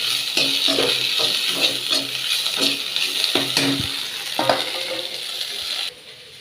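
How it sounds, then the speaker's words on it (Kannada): Spices frying in an oil-filled pan as part of an obbattu sambar, with a steady sizzle broken by the regular scrape and clink of stirring; the sizzle cuts off abruptly just before the end. "ಚೆನ್ನಾಗಿ ಚೆನ್ನಾಗಿ ಫ್ರೈ ಮಾಡಬೇಕು"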